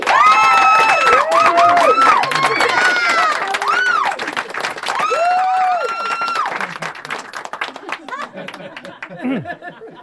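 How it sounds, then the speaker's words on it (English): Studio audience applause and cheering at a live music show, with clapping mixed under melodic singing-like tones that fade into scattered claps and chatter near the end. "A round of applause."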